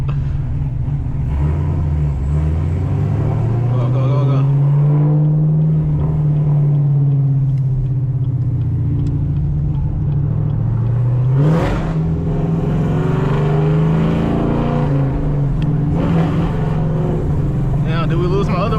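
A cammed Chevrolet Camaro ZL1 slides through turns, its V8 loud and close, revving up and down in long sweeping rises and falls with a sharp burst near the middle and a continuous engine drone throughout.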